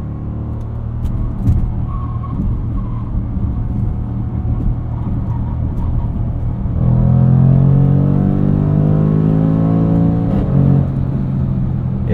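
A 2021 Jaguar F-Pace SVR builds speed out of a corner on an entrance ramp, its engine note droning steadily under cabin noise before swelling into a louder, rising surge of acceleration.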